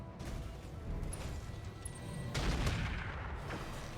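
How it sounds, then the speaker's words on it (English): A heavy AC-20 autocannon fires from a mech in RogueTech BattleTech, a fairly quiet clip with scattered impacts building to a louder crashing burst of shots midway, then fading back to rumble. "Now he's going to fire that AC-20"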